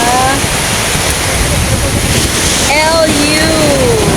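Sea waves washing onto a wide sandy beach at Bawang, La Union, a loud continuous surf roar with heavy wind buffeting the microphone and a few faint whistling tones, no talking.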